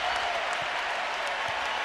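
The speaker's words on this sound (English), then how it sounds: "The crowd on its feet." A basketball arena crowd stands cheering and applauding as Arizona clinches the Big 12 regular-season title, a dense, continuous roar of claps and shouts filling the space.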